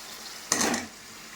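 Potatoes are stirred into spiced oil in a pan, giving one brief, quiet scrape and sizzle that swells and fades within a second against a soft, steady background.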